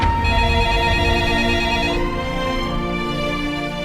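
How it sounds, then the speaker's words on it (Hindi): A telephone rings loudly and close by, a sustained bright electronic ringtone with steady tones lasting a few seconds, with no voices over it. "देखना किसका फोन है।"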